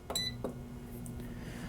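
Air fryer being set for a pizza gives a few short, faint electronic beeps near the start as its timer is adjusted and started, then a low steady hum.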